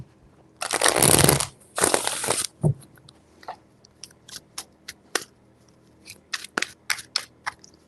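A tarot deck is shuffled up close: two dense, rustling bursts of riffled cards, then a run of crisp, separate taps and flicks as the cards are squared and laid down.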